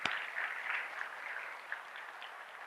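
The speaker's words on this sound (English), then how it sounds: "give them the loudest round of applause yet." Applause from a school community meeting audience for students standing to be recognized, a faint, distant, steady patter of many hands with one sharp knock at the very start.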